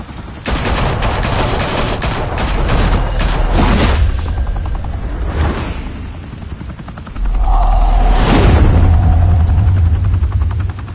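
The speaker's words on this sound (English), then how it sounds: "Open fire!" Heavy gunfire bursts in the Batman: The Telltale Series video game, loud dense volleys for the first few seconds, a single sharp blast near the middle, then a big boom over a low rumble.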